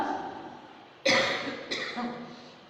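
Two sharp, moderately close coughs, the second a little weaker, break out over a quiet room at a Jain ritual gathering.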